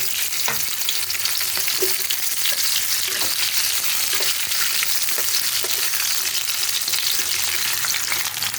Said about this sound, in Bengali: এখন শিমগুলো আমি আস্তে আস্তে করে দিয়ে দেবো কড়াইতে, একটু নেড়ে চেড়ে ভেজে নেব।